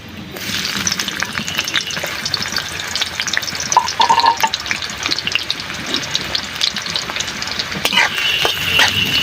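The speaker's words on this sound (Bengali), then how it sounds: "তেল গরম হয়ে গেছে, আমি এখানে 4টে এলাচ ফাটিয়ে দিয়ে দেবো। দেবো আমি পেঁয়াজ কুচোনো," Chopped onions and cracked cardamom pods frying in hot oil for chicken kosha, a loud, dense crackling sizzle with stirring scrapes throughout, close up.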